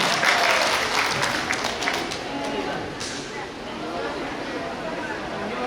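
Wedding guests clapping together at a traditional Batak wedding ceremony, dense applause that is loudest at first and then thins slightly, with voices talking over it throughout.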